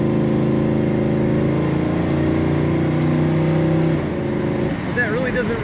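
A 1972 Chevrolet Nova with automatic column shift idles with a deep, steady engine drone, then a quick throttle blip near the end, with a voice talking over it.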